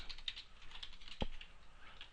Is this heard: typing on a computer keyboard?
yes